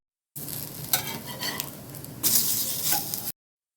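Adai dosa sizzles in oil on a hot pan, a steady close crackling hiss that swells louder partway through, with no talking.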